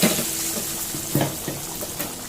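Hot cumin-tempered oil poured from a kadai over khichuri, a steady bright hiss and sizzle with a few soft splashy bursts, close and fairly loud, no talking.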